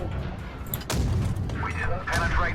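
Tank cannon shots in World of Tanks Blitz from a Cromwell B, with a heavy boom near the one-second mark and another blast around two seconds, each trailing a rumbling tail over continuous low battle noise.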